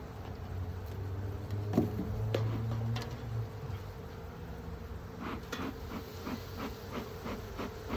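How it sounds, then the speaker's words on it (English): A dense, steady buzzing of many bees hums close by inside an open beehive among the frames, with occasional clicks and light knocks scattered through it. "There's bees on all these frames"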